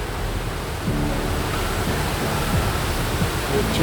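Water pours over a weir in a constant broadband rush, steady and fairly close, with someone talking briefly over it.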